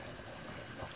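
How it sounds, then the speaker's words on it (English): Noodles boil in a pot of water for lasagna, a steady close bubbling and rolling wash that stays even and unbroken throughout. "I want you to see the noodles boiling."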